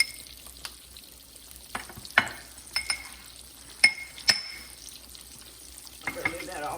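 Green tomatoes fry in hot grease, giving a steady close sizzle with a few sharp clinks of a utensil against the pan.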